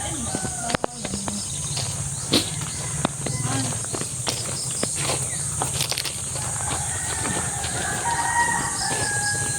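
Chickens cluck and a rooster crows around a small coop beside a vegetable garden in a rural barangay, the birds fairly close over a steady insect drone, with some scattered rustling and faint voices.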